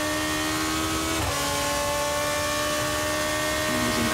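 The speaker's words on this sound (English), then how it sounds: "And listen to the wheel spin under full throttle into Eau Rouge." A 2012 GP2 race car at Spa in wet conditions, heard onboard with its engine at full throttle into Eau Rouge: a loud, steady high-pitched roar with wheel spin and a brief pitch dip from a downshift, no talking.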